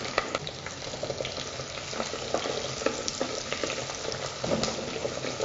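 Garlic and small shallots frying in a pan: a steady dense sizzle with scattered pops and stirring scrapes, loud and close, no one talking.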